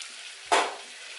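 Food frying in a covered pan, a steady low sizzle with one sharp louder burst of hissing midway, close and alone.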